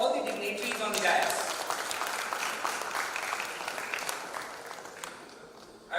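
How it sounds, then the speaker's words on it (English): An audience at an audit conclave gives a sustained round of applause for dignitaries on the dais, dense, steady clapping that slowly fades over several seconds in a large hall. "A round of applause for all the dignitaries on the dais."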